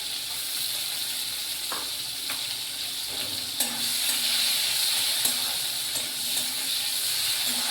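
Chopped onion and two cloves of garlic frying in hot oil, a steady close sizzle with occasional brief stirring clicks and no talking.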